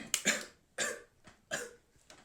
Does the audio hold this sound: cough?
yes